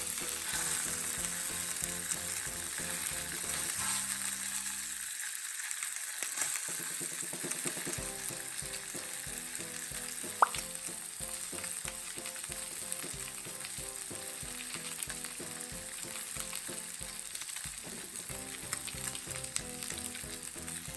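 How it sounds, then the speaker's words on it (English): Yellowtail fillets sizzle steadily in an oiled pan as they grill for a Japanese teriyaki dish, a continuous close frying hiss with a brief dip partway through and no voices. "Then turn over, grill another side."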